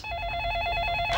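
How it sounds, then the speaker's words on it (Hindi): A mobile phone rings with a bright, steady electronic tone lasting about a second, loud and close, with no talk over it. "ओहो, फोन।"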